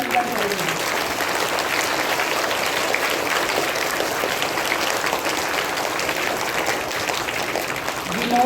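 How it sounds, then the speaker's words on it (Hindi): An audience at a children's Hindi patriotic poetry recitation competition gives the participants a steady, loud round of applause. The clapping stays sustained and even throughout, with no voices over it. "एक बार जोरदार तालियों से इनका अभिनंदन करें"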